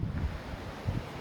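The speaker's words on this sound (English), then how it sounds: "It's also quite windy." Wind blows outdoors on a cold, blustery day as a steady, rushing roar with low buffeting gusts against the microphone, and no voices are heard.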